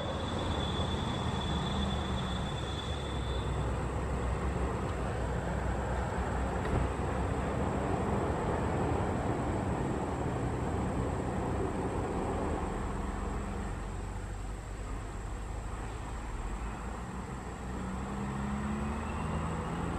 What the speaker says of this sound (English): Listen to that truck pull, if you can hear it.